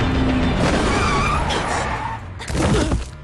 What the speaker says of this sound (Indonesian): Tosaki langsung menabraknya dengan mobil